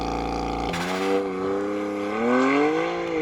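A BMW 1 Series launches hard under launch control, its engine roaring loud and close as rising harmonics climb steadily through the gears after an idle hum, with no talk.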